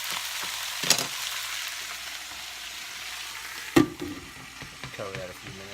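Mushrooms and onions fry in a pan with a steady, soft sizzle throughout, broken by a couple of sharp clanks and stirring knocks near the start and middle, then some lighter clatter toward the end.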